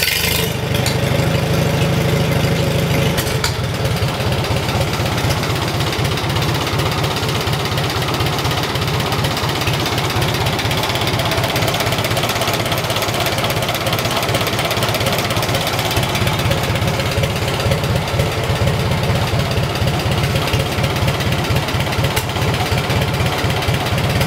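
Farmall H tractor engine running after starting, a loud continuous low chugging rumble close by with steady rapid knocking pulses throughout, no talking.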